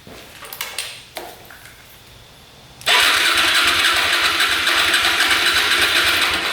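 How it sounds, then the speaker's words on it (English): A motorcycle engine is first heard faintly with a few bangs, then bursts into a loud, steady, close rasping run. "if something backfires through the carb like that"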